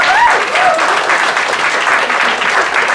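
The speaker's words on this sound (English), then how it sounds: "A little round of applause for Ima, please." Steady audience applause at an annual general meeting, thanking the organisation's CEO on stage; dense, continuous clapping from a full room, with faint voices under it.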